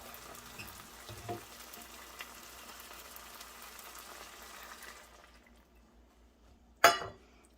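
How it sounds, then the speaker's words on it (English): Milk poured into a simmering meatball and shell pasta mixture: a soft, steady sizzle and liquid hiss for about five seconds, then near silence broken by a short sharp clatter. "we're going to add in about 2/3 cup of milk"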